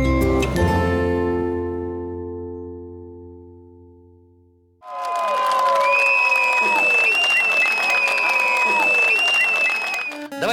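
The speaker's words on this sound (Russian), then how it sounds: "Давайте под ваши бурные аплодисменты я начну по-новому." A held musical chord fades out at a Belarusian song concert, then the audience breaks into loud, sustained applause with crowd noise that carries on to the end.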